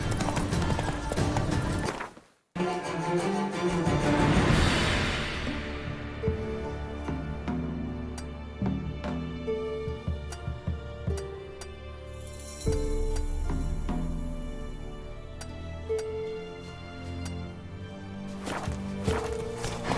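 A horse galloping in The Witcher 3, with rapid rhythmic hoofbeats that carry on for a long stretch under game music and scattered effects.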